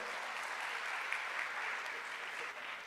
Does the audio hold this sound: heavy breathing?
no